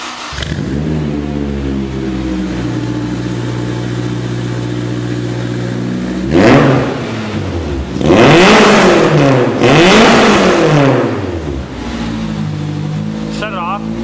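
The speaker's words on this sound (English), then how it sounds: "Go ahead and start the car, we can hear it." A Honda S2000 fitted with a custom race exhaust and high-flow cat fires up and idles, then revs hard twice in quick, loud bursts before settling back to a steady idle, close up.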